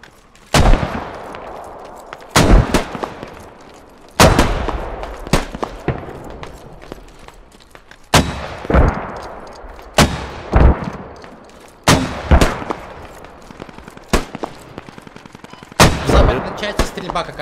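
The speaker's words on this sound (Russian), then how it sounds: "Да, стрельба непонятно откуда." Loud, sharp gunshots in the video game Squad crack out in bursts every couple of seconds, some close together, each trailing a short echoing decay.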